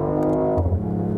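BMW i8 hybrid sports car with four-wheel drive on a race track, a steady engine hum with some rising tonal whine, heard close and continuous.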